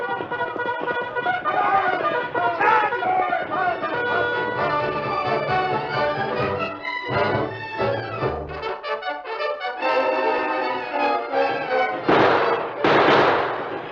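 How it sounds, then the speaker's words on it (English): Staged gunfire for a 1941 Western radio drama battle, with repeated sharp rifle and gun shots crackling over a loud, dense stretch of sound effects, ending in a burst of noisy blasts. "Here's another gun, Bill. Give Tonto rifle, too"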